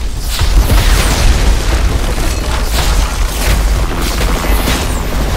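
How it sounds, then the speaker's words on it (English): Rocket explosions in the video game Modern Warfare 3, loud rolling booms and bursts following one another with heavy low rumble throughout. "Stop shooting rockets at me, bro."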